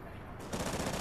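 Automatic weapon fire in a Call of Duty: Ghosts campaign battle, a dense burst that starts about halfway through and stays loud against the game's background noise.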